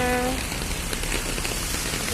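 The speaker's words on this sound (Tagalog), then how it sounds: "Nahugasan naman ang mundo sa lakas ng ulan." Heavy rain falls in a garden in Hong Kong, a dense, continuous hiss of drops pattering on surfaces, loud and close throughout, with a brief tonal sound at the very start.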